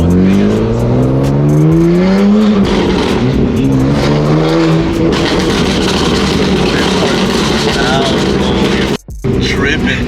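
A BMW F80 M3 with an aftermarket exhaust and flame tune revving loudly in Sport Plus mode, close by, with rising and falling engine sweeps and crackling burbles, voices talking over it and a brief cut near the end.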